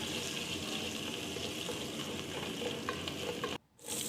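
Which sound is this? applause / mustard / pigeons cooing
mustard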